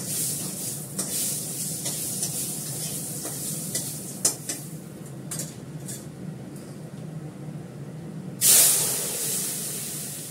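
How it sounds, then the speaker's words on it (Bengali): Dry red chillies and mustard seeds crackle in hot oil for a sour dal tempering, with steady sizzling, pops and stirring clinks, then a loud hissing burst near the end as the tempering meets the dal. "এবার টক ডালটা ফোড়ন দিয়ে দেবো।"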